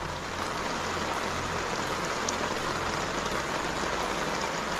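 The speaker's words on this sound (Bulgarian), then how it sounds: "Вали много." Heavy rain pours steadily at a reservoir during carp fishing, a dense unbroken hiss of drops close by with a low rumble underneath, no talk.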